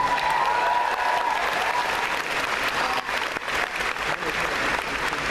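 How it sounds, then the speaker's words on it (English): A large audience at a Comic-Con Doctor Who panel claps steadily, with dense, sustained applause filling a big hall, scattered cheers mixed in, gradually thinning toward the end. "people should really applaud Michelle for coming into this role and embracing it and filling it so completely"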